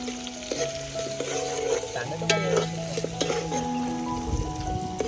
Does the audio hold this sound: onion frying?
yes